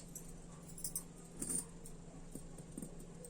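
Glass bangles clink in a few light, bright taps while being slipped onto a wrist alternately with thread bangles, quiet and close with a steady low hum beneath.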